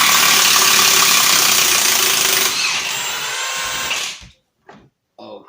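A Milwaukee high-torque impact wrench backs a thick bolt out, its loud, rapid hammering rattle running steadily for about four seconds, shifting pitch as the bolt loosens, then cutting off into a few faint clunks.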